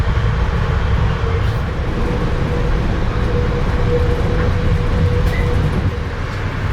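A Metro-North commuter train to Poughkeepsie rumbles steadily along the tracks, heard from inside a carriage, with a constant low roar and faint rattling throughout.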